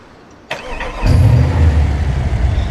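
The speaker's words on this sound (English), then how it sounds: "let's go ahead and start the car up and see how this is" A car engine in BeamNG Drive cranks briefly with a sharp click, then catches and settles into a loud, rumbling idle that keeps running with slight fluctuations.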